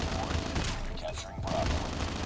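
Rapid automatic fire from an MSMC submachine gun in the Call of Duty: Mobile game, a continuous clattering burst over busy game noise, with a voice faintly mixed in.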